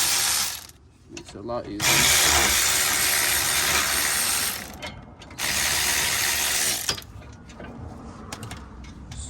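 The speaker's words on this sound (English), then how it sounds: "I'm gonna use my 3/8 ratchet to take them off." A 3/8 ratchet backs out brake caliper bolts on a 2013-2017 Honda Accord, with two long bursts of fast, dense clicking up close, separated by brief pauses and a short spoken comment.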